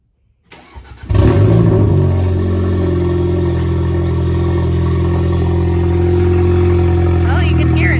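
A B9 Audi A4 with a modified, very loud exhaust cold-starts: the starter catches within a second and the engine bursts into a deep, booming, steady high idle that fills the rest of the clip.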